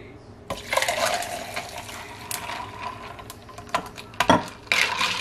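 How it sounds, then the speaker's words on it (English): Iced coffee poured into a glass of ice in a home kitchen, a splashing liquid pour with clinks and rattles of ice, fairly close and steady with a few sharper bursts near the end, no talking. "I'm going to pour the coffee in the ice."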